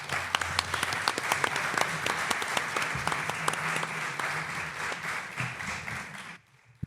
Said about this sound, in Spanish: Un aplauso para Maika, por favor.